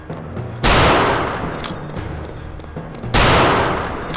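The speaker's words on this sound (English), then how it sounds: "Is there someone else firing rockets?" Rockets fired in a shooter video game burst out in two loud, roaring broadband blasts, each followed by a rumbling decay, with a quieter stretch of low noise between them.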